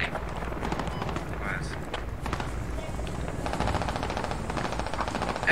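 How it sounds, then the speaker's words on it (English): Video game battle gunfire, rapid bursts of automatic weapon fire and scattered shots running continuously under overlapping radio voices. "We're shooting back."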